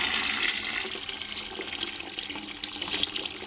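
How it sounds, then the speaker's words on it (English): Reverse osmosis water pours steadily into a container for mixing plant nutrients, a continuous close hiss and splash with no pauses. "Now this is RO water that's going in here"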